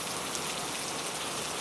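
Steady rainfall pattering on surfaces, a dense, even hiss of drops that stays constant throughout, with no voices or other sounds.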